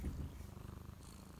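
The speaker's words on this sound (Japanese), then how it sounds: "またゴロゴロいってる" A black kitten purrs up close, a soft rhythmic rumbling pulse repeating steadily after a brief louder rustle at the start.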